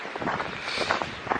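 Wind gusting through a freezing cold forest, a brief rushing buffet of air with rustling, close and fairly soft.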